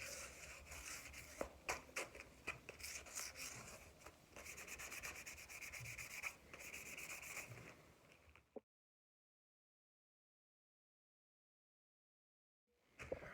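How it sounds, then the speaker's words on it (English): Wood sanded by hand with steady back-and-forth rasping strokes, close and continuous for about eight seconds, then abrupt silence before a brief rustle at the end. "Don't change the direction when you're sanding."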